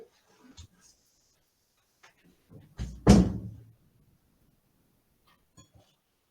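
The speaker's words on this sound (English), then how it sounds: "can I go close the door and come?" A door being shut in a home during an online class, heard as a single fairly loud thud with a short rattle. Faint shuffling and a few quiet, brief voice sounds come before and after it.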